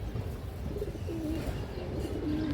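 A large Bagha female pigeon of an old bloodline coos softly and repeatedly, its low murmuring calls close by against steady background noise.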